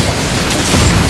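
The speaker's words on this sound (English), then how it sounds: "Your team has destroyed a tower!" Tower destruction in the Arena of Valor mobile MOBA: a dense, loud booming crash filling the whole second, swelling slightly toward the end, with no voices over it.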